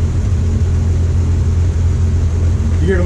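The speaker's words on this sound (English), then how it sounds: "The engine in the truck changed." A Studebaker pickup truck engine runs with a steady, loud low rumble that holds an even idle throughout, with a faint rising tone near the end as the revs begin to change.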